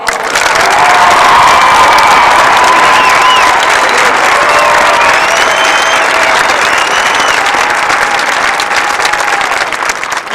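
Loud, sustained crowd applause mixed with cheering and scattered whoops fills a Marine Corps Recruit Depot San Diego graduation ceremony, continuous and dense from start to finish with no speech over it.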